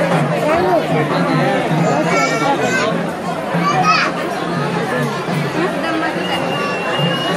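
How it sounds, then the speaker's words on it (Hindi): A dense crowd near Tuljabhavani Temple in Tuljapur, Maharashtra, fills the air with overlapping chatter from adults and children, a close, continuous babble with occasional higher-pitched voices rising above it. "देखिए किस तरह की भीड़ है।"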